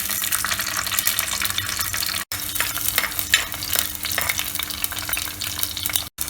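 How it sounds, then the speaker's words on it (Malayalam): Garlic, black pepper and cardamom fry in hot coconut oil in a pan, giving a dense, continuous crackling sizzle close to the mic, with stirring scrapes and no talk. "അപ്പോൾ ഏലക്ക ഒന്ന് പൊട്ടി വരുന്നതിന് ശേഷം നമ്മൾ അതിലേക്ക് വെളുത്തുള്ളി ഇടുക."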